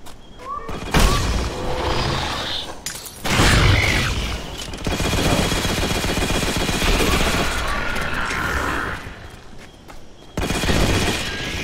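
A shotgun firing in the video game Halo: Spartan Strike, several loud blasts separated by short gaps amid busy game effects, with some chatter mixed in.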